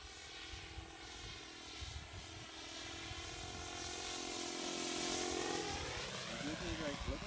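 A radio-controlled foam P-47 Thunderbolt model airplane buzzes overhead, its whining engine drone swelling louder and shifting in pitch as it passes close.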